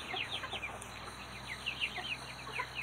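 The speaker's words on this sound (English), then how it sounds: "He's already started crowing." Young Silkie rooster, about eight weeks old, giving thin, squeaky early crows amid faint chirping, quiet and somewhat distant.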